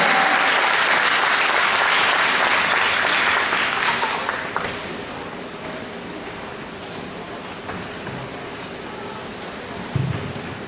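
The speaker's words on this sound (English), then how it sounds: "Please, everyone, big round of applause for Roiti, Auntie Roiti Silva." Audience applause at a Tahitian dance competition, the Hura Tahiti solo eliminations, a dense wash of clapping that swells loud for several seconds then thins to a lighter, steadier patter with a brief louder burst near the end.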